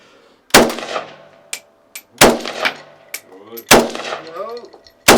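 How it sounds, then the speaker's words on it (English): Gunshots fired at a can on a Prague shooting range: several sharp, loud, close cracks with a few fainter shots among them, spaced irregularly, while people talk between the blasts. "Let me shoot this. I'm gonna shoot this can."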